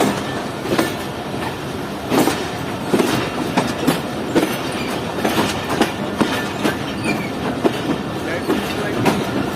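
Jaffer Express train rolling along the rails, with a steady run of clicking wheel beats on the track heard from on board, under faint talk.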